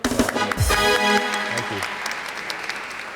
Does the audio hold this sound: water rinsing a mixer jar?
no